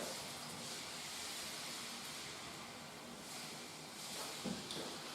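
A pot of mixture simmering gently in a saucepan on a turned-down stove, giving a steady, soft bubbling hiss with occasional faint pops, heard close with no talking.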